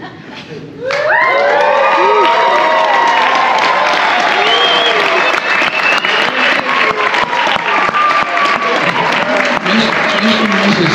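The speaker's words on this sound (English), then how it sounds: "And yes, you can cheer." Wedding guests break into loud cheering, whoops and sustained applause after the newlywed couple's kiss, a dense crowd roar that rises suddenly and holds for about ten seconds.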